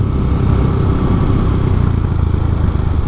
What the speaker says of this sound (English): I'm gonna turn off the bike.